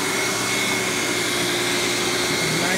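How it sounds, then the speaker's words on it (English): Hoover Windtunnel Supreme U5458-900 upright vacuum with an extension wand running after switch-on: a steady, loud whirring roar of motor and suction airflow with a faint high whine, constant throughout, no talk. "So I'm gonna break out one of the extension wands. Switch on. Has very powerful suction."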